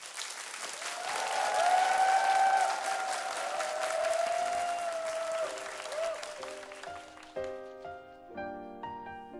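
A concert audience gives loud, sustained applause as a gospel singer comes on stage. The clapping gradually thins out as instrumental music begins underneath.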